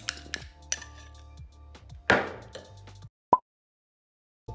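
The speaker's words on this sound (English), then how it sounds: "then mix the ingredients properly to obtain a smooth consistency as shown" Yogurt, honey and turmeric powder being mixed in a bowl with a spoon, giving a few scattered clinks and scrapes, one louder rattling knock midway and a sharp tap after a pause.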